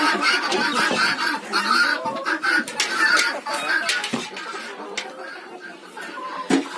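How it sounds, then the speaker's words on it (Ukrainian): Farmyard chickens in a Ukrainian village cluck and squawk continuously, close and lively, while someone talks over them. "Курочки, тікайте, тікайте."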